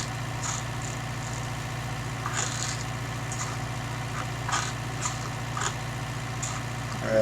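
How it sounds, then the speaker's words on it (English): A tractor, resting between grass work and the sugar beet harvest, idles with a steady low diesel throb, joined by faint intermittent clanks and rustles. "This tractor having a rest from its grass duties to harvest sugar beet"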